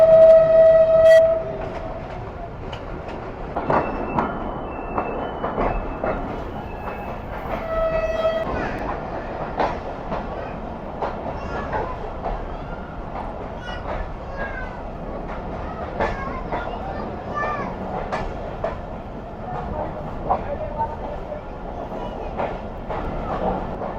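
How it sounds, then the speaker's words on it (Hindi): A passenger train rolls on rails into Larkana city on a foggy winter run. A brief horn blast opens, then steady wheel clatter and rhythmic clicks carry on, loud and close. "11:10 पर ट्रेन हमारी लाड़काना शहर में एंटर हो चुकी है।"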